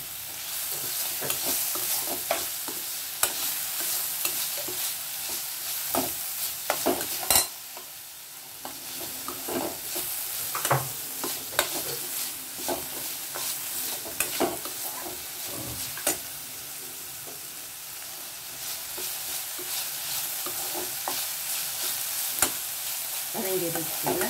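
Onion and ingredients sautéing in a pan for a tapioca kara paniyaram breakfast, with steady close sizzling and frequent scraping stirs throughout, no talk.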